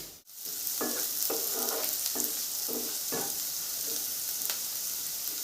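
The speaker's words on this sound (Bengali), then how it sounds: "গাজরগুলো আর বিনসগুলো ভালো করে কুক করে নেব" Carrots and beans cook in a pan with a steady broadband sizzle, broken by several short bursts of stirring scrapes that recur every half second or so, close and fairly loud with no talk.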